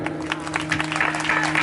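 An audience claps at a 24-kund Gayatri Mahayagya ceremony in Nagda, a brief, moderately faint burst of scattered applause with a steady hum beneath.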